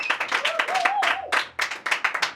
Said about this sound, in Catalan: Fora aplaudiment per el Pau de Pons